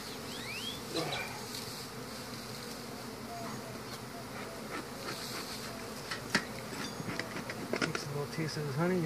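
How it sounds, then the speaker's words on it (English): Steady insect buzzing fills the scene, a dense drone of many honey bees close by during a hive removal, with faint voices and handling noises underneath. "I'm moving them out of the comb so I don't damage as many bees"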